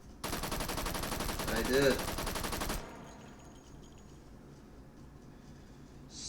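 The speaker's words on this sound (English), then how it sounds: "Hit the safety to get it fire automatic." A World War II automatic gun in the H3 VR game fires one sustained burst of about two and a half seconds, loud and dense, then cuts off to quiet room tone where a voice briefly speaks.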